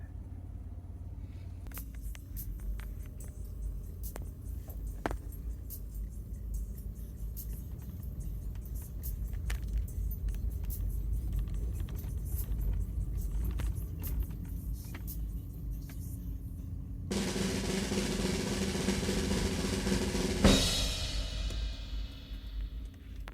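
A Mitsubishi Montero with close to 250,000 miles drives home from work, a low, quiet cabin rumble with scattered small clicks and a louder rushing stretch near the end.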